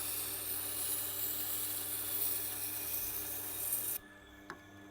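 A cleaver is honed on a Tormek sharpener with a smooth wheel setting, giving a steady close grinding rasp for about four seconds before it stops abruptly, followed by a single faint knock.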